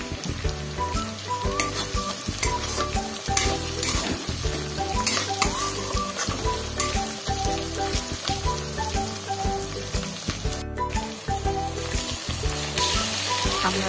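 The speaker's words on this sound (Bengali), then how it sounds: "এখন আমি কাঁচা পেঁয়াজের কুচিটা দিয়ে দেব। পেঁয়াজটা হালকা ভাজা ভাজা হতে থাক" Chopped raw onion frying in a pan for a capsicum chicken dish: a loud, steady sizzle with scattered crackles and stirring scrapes, close up and continuous, with no talking.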